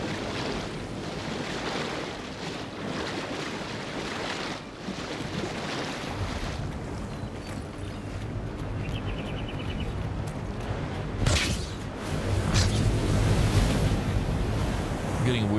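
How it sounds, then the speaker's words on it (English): Ocean waves crash on a fractured shore in the fantasy video game Avowed, making a continuous whooshing roar of surf and wind with a louder surge near the end and no talking. "I'm getting weird audio shit from the waves crashing."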